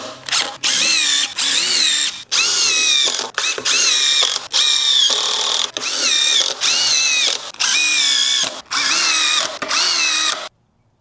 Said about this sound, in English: Now we put some screws in it.